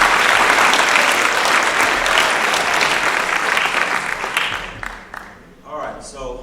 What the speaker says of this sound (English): Give these guys a little round of applause.